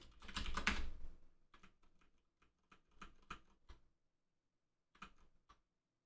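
Keystrokes on a computer keyboard during a programming session, starting with a dense burst of rapid typing, then spaced individual clicks and short clusters, a pause, and a final brief flurry of taps.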